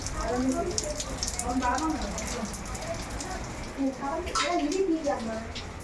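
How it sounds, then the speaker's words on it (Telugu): Heavy rain falls outside in a constant hiss, while people talk over it throughout. "ఫుల్గా పడుతుంది వర్షం చూడండి"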